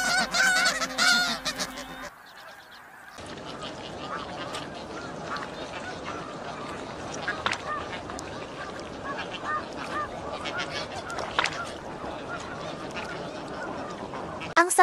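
Snow geese, a large flock, honk in a dense, continuous chorus of overlapping calls that runs steadily throughout, with a brief dip near the start and a sharper burst of calls at the very end.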